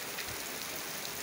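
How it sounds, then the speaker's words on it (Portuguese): Heavy rain pours down in a continuous, dense wash of hiss and spatter, even and unbroken across the short stretch. "Agora tá chovendo muito aqui"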